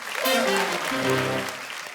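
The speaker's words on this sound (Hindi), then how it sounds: "इनके लिए जोरदार तालियां।" A studio audience on a Hindi comedy TV show claps through a short burst, the applause running underneath a prominent voice or musical sting.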